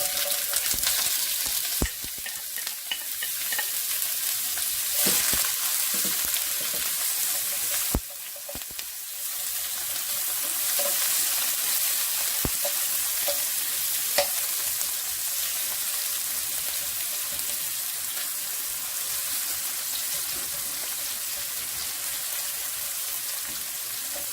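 Chopped onion frying in hot oil in a pan, a loud, steady, dense sizzle that carries on throughout with occasional crackles and small stirring knocks.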